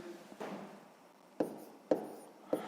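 Chalk or marker writing numbers on a classroom board during a sixth-grade math lesson: a few sharp taps and short scratchy strokes, three distinct marks spaced about half a second apart, fairly close, with no talking.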